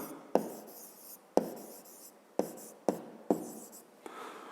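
A pen writes on paper in short bursts, each stroke starting with a sharp tap of the tip followed by a scratchy rasp, close and clear, with pauses between words during a physics lesson.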